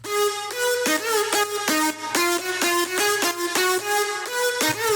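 A bright synth lead plays a quick, rhythmic melody of short repeated notes, loud and upfront with no voices.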